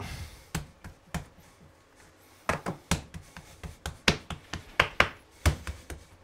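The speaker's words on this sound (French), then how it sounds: "Il va falloir aplatir ça sur la table et mettre du sucre roux" Hands flatten Kouign Pod dough on a table in an Île de Groix kitchen, making irregular sharp slaps and thumps that start sparse and then come in a quicker run of a dozen or so close, crisp hits, with no talking.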